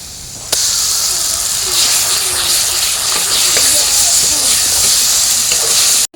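Ground spice paste hits hot oil with lightly fried onions and bursts into a loud, steady sizzle and hiss that continues unbroken, with a voice speaking faintly underneath.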